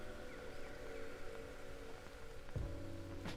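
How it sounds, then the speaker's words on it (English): Steady rain patters on leaves and ground in a jungle forest in the survival game Green Hell, a constant close wash of drops with a brief low tonal sweep near the end. "Waking up alone in the middle of the forest while it's raining."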